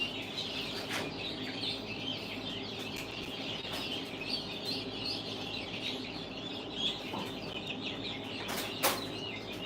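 Baby chickens in their pen give a steady wash of small chirps and peeps, close and continuous for the whole stretch, with a few sharper calls standing out now and then.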